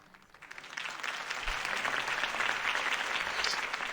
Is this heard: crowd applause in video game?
yes